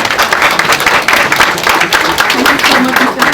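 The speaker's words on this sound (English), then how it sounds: "A big round of applause for all our honorees tonight." Loud, dense applause from an audience at an awards ceremony honoring its honorees fills the room continuously, with many hands clapping close together and a voice faintly underneath.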